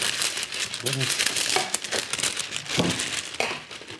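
Cellulose foil crinkles and rustles continuously as it is handled for a ham press, close and fairly loud, with a person talking over it.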